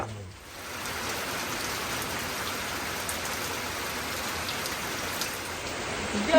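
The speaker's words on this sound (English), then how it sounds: "we're getting another light rain" Light rain patters down outdoors in a steady, close, wash-like hiss that holds evenly throughout with no talking.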